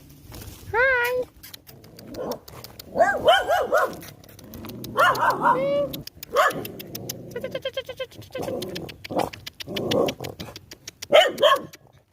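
Dogs bark near a dormitory walkway in the evening, several sharp, close barks and yelps scattered among people talking.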